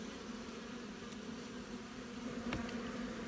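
Honeybees hum steadily inside a growing hive, a faint, even buzz that holds throughout, with a brief louder buzz as a bee passes close by and no voices.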